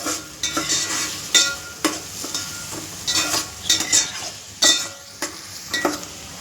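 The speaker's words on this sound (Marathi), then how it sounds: "चांगल्या प्रकारे हलवून मस्त असा लालसर कलर येईपर्यंत कांद्याला भाजून घेऊयात" Onions frying in hot oil while being stirred until reddish, with a continuous close sizzle punctuated by repeated scraping strokes and metallic clanks of the spoon on the pan.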